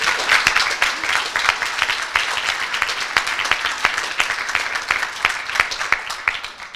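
An audience at a coding bootcamp demo day applauds the graduating students, steady crisp clapping with individual claps audible throughout, moderately distant, with no talk over it.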